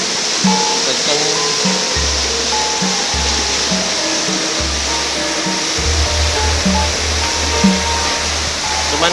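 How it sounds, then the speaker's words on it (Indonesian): A roughly 30-metre waterfall with a strong flow roars steadily and loudly, a broad unbroken rush of falling water that continues throughout, with no clear voices rising above it. "Ketinggian air terjun sekitar 30 meter pemirsa, dengan debit air yang cukup"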